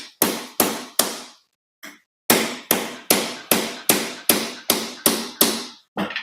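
A hammer strikes a sharp steel chisel while cleaning up a Toyota 1MZ engine, a dozen sharp metallic taps in a steady rhythm with a short pause, close and loud.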